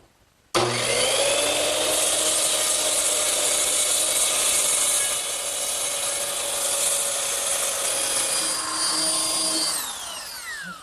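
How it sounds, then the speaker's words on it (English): A circular saw trims the angled faces of a wooden pencil post bed post, a steady, loud, high whine running unbroken for about ten seconds before spinning down. "I'm just going to take a circular saw and trim the angles"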